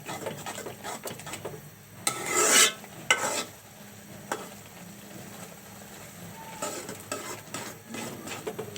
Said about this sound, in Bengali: ডিমটাকে একটু ভালো করে ভেঙেও নিব। এইভাবে ঘুরিয়ে ঘুরিয়ে আমি একটু লাড়া দেব।